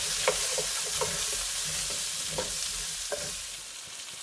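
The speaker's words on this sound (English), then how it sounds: "I'm going to saute the potatoes just for a couple of minutes." Potatoes seasoned with salt and cracked black pepper sauté in a pot for stewed chicken, with a soft steady sizzle and a few light stirring scrapes and knocks, quiet and without talk.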